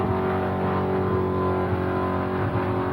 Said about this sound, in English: You got a plug protesting in that engine there. We can hear a little miss becoming a little more constant